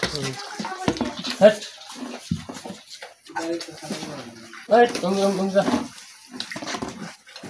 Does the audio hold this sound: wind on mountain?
no